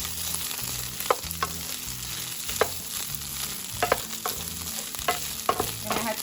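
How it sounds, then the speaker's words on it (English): Pork frying in a little oil in a pan, a steady crackling sizzle with occasional sharp pops and the soft scrape of stirring, close and continuous. "I'm going to add a little bit of oil to kickstart the frying"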